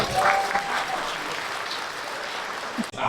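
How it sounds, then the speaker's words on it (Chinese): An audience claps steadily together, the sound strong at first and then slowly thinning out before it cuts off sharply near the end. "再给他一个掌声好不好？"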